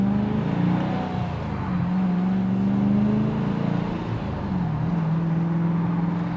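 A tuned Gen 3 Hemi Dodge Challenger being driven, its engine a steady, loud low drone with slowly shifting pitch as it cruises, no talking over it.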